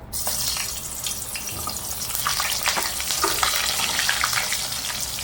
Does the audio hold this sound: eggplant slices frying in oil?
yes